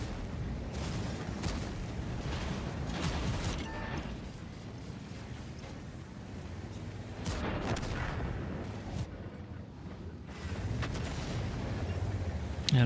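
Tank cannon fire in a video game, with repeated heavy booms and rumbling blasts over continuous battle noise, loud and dense throughout.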